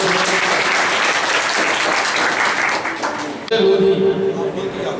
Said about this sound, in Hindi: एक बार फिर ताली बजाते हैं दोबारा।